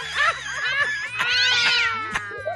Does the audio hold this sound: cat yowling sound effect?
yes